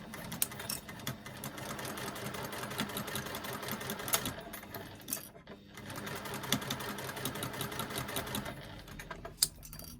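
A sewing machine stitches a zipper in place in a fast, steady rhythm, close and fairly quiet, pausing briefly partway through before resuming.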